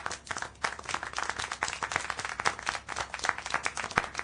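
Clapping in the video game Syberia: The World Before: a dense, uneven run of sharp hand claps that carries on steadily throughout, with no talk.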